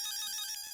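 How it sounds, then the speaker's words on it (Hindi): A short burst of a mobile phone ringtone announces an incoming call in the Indian TV comedy Taarak Mehta Ka Ooltah Chashmah, a bright, steady electronic melody heard alone and close. "फोन आया।"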